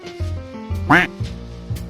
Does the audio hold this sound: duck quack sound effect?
yes